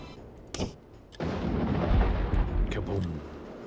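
Explosions roaring in a Warhammer video game battle, with a few sharp bursts followed by a sustained heavy rumbling blast, fairly loud.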